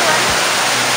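Waterfall seen on an August trip to Grozny, a steady broadband rush of falling water filling the whole second, close and loud.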